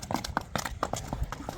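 A horse shows off its moves, hooves clip-clopping in an uneven quick rhythm up close while someone talks over it.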